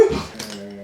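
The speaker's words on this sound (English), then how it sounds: "that's the dog making that noise" A dog lets out a brief, close whine, a thin high-pitched whimper that trails off in under a second.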